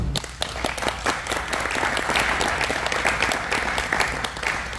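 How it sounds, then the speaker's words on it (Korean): A church congregation applauds steadily for several seconds, dense clapping from many hands filling the room, moderately loud and continuous. "박수 한번 좀 쳤으면 좋겠습니다"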